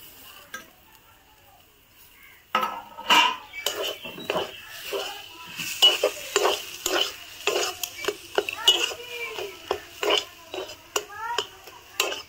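A spiced fish mixture for fish chops is stir-fried in a pan, with a spatula scraping and clinking in quick, repeated strokes. Faint sizzling runs underneath, and the clip is quiet for the first two seconds before the stirring begins.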